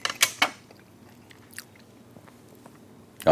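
Grilled, smoked, locally raised beef is bitten and chewed close up, with two sharp crunchy bites at the start, then quiet, soft mastication and occasional wet clicks, with no talking.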